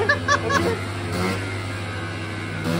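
A Zip scooter engine runs on a test bench with a loud, steady mid-pitched drone, starting with a few sharp rising revs before holding a sustained buzzing tone nearby.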